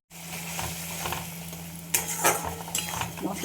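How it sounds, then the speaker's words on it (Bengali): Spice paste with turmeric and salt sautés in a pan for a soybean dish, giving a continuous close sizzle with a spoon scraping and clinking against the metal. "মশলাটাকে কষিয়ে নেব।"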